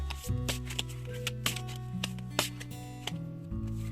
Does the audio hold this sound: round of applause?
no